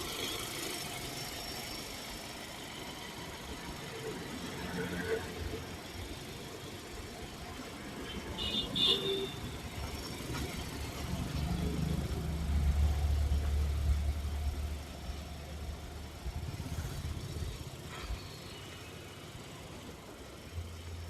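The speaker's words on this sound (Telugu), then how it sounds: "కంప్లీట్గా పెట్రోల్ వెహికల్ ఇంజిన్ సౌండ్ వచ్చినట్టు వస్తుంది" A used car's engine idles smoothly with a faint, steady low hum and a few light squeaks. No one talks over it.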